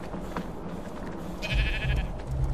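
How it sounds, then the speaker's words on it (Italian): Sheep in the ARK: Survival Evolved Genesis map bleat over a low ambient game background, with a short nasal bleat followed by louder, lower calls toward the end. "Oh, pecore"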